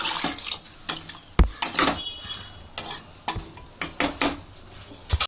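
A spoon scrapes spiced water out of a cooking pot for mutton curry and tips it into a pressure cooker, giving a series of sharp metallic scrapes and clinks with liquid sloshing, close by.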